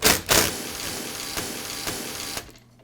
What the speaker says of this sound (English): Now I'll remove the other 5 screws that secure the two halves of the housing together